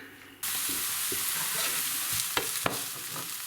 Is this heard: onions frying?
yes